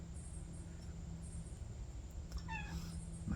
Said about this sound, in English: My cat helps me a lot when I do this.